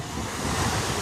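Ocean surf rolls onto a Florida beach at Anna Maria Island as the tide goes out on a hot summer day. It is a brief, steady, broad wash of waves mixed with wind noise, with no voices.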